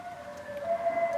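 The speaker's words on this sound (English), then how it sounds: "so it was an ambulance and a fire engine" A wailing fire engine siren holds a steady rising tone, heard at moderate distance over low road rumble.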